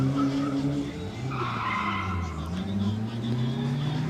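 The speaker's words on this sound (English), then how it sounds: "Miata's coming up again." Mazda Miata on an autocross course with tires skidding and squealing through a corner, a sustained wavering screech over engine drone, heard from trackside with a voice speaking.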